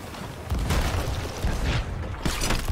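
Ship cannons in a pirate video game fire in a string of heavy booms, about three or four thuds spaced under a busy game background.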